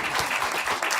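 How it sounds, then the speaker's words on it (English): Brief burst of steady audience applause at a materials and manufacturing showcase session, many hands clapping together in a large room. "I just want to give a round of applause"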